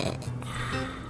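A voice imitates snoring, giving a short run of low, rasping snore-like pulses repeated a few times over about a second, close and fairly loud.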